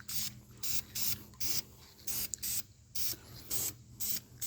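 Rapid bursts of spray paint laid on as light coats over a car part for a 1966 C10 LS swap, about a dozen short hissing passes in an even rhythm, close and steady, with no talk.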